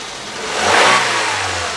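A 2017 Daihatsu Granmax pickup engine revs up briefly from idle, rising to a peak and easing back, close and alone.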